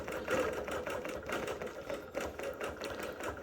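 A Bernina Q24 longarm quilting machine stitches out a square geometric design with rapid, steady mechanical rattling. The stitching sounds close and continuous.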